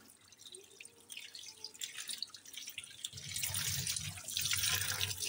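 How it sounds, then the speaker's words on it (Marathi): Tap water runs and splashes as eggplant is washed by hand in a sink, starting with scattered drips and building into a louder, steady rush of water toward the end, close by with no speech. "वांगे आणले, आता स्वच्छ चांगले धुवून घेते."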